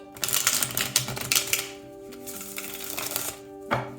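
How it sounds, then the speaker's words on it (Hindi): A deck of tarot cards being shuffled by hand, heard close as bursts of rapid papery riffling and flicking with short pauses, over a faint steady background tone. "चलिए शफल कर लेते हैं तुला राशि लिब्रा साइन के लिए"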